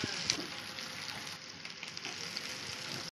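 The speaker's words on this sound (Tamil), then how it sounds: "ஃப்ரை பண்ணி எடுத்து வச்சுக்கலாம் அந்த இதையும் சேப்பங்கிழங்கையும்" Colocasia (taro) root frying in oil in a pan with curry leaves, a steady close sizzle that runs unbroken with a few faint pops and no talking.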